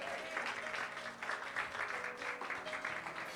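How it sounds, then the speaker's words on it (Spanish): A church congregation applauding for several seconds, steady clapping heard from a moderate distance and fairly faint, with no voices over it. "¿Cuánto le dan un fuerte aplauso al Señor?"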